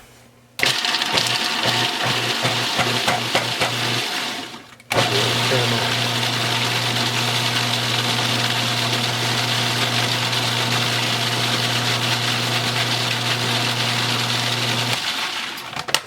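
A food processor runs on onions for a sauerkraut, sausage and potato soup: first a series of short, rapid pulses, then a brief pause, then a long, loud, steady motor whir that stops near the end.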